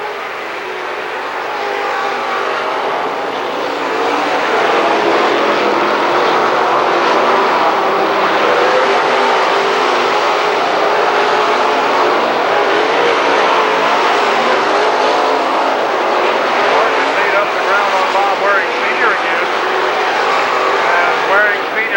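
Late model race cars roar around a dirt speedway during a 1994 heat race at Lernerville Speedway, producing a dense, continuous engine drone from a pack of cars at moderate distance, with no break in the noise.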